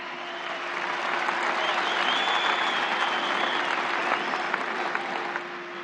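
An audience at an event welcoming India's Prime Minister breaks into steady applause that swells in over a second, holds as a dense, even wash of clapping, then fades slightly, with a faint hum underneath.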